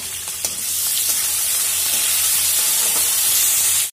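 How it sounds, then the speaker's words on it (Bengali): Salted potatoes fry in a pan with a loud, continuous close sizzle and hiss, a few faint stirring knocks underneath, cutting off abruptly at the end. "এখন আলুটাকে আমি একটু ভেজে নেব।"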